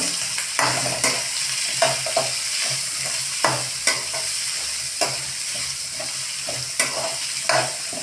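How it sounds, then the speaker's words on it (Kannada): Onions frying in a pan for mixed vegetable baji, a steady sizzle under repeated rhythmic scrapes and taps of a spoon stirring them every second or so, close and clear with no speech. "ಈರುಳ್ಳಿ ಚೊರತ್ತೆ ಒಂದು ಐದು ಐದು ನಿಮಿಷ ಬ್ರೌನ್ ಕಲರ್ ಬರೋ ತನಕ ಚೊರತ್ತೆ ಹುರಿಬೇಕು"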